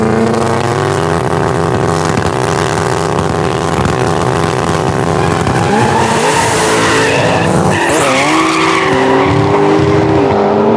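An 1100hp turbocharged Honda Integra or 700hp Fox Body Mustang drag car does a burnout at a no-prep drag race, engine roaring loud and constant with screeching tire squeal rising in pitch, close up.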